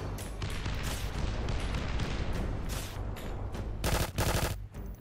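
Rapid bursts of automatic gunfire with heavy booming blasts in the video game Ravenfield, loud and dense, continuous throughout in a chaotic battle-like scene.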